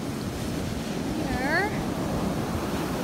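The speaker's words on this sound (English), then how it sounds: "Lots of big waves." Big ocean waves break on a Gulf beach in a constant loud roar of surf mixed with wind buffeting the microphone, while a brief voice-like sound rises over the noise.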